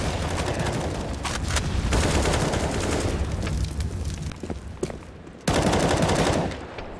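Gunfire in a competitive video game match, with dense rapid volleys of shots crackling close and loud, then a brief lull before another sharp burst of firing.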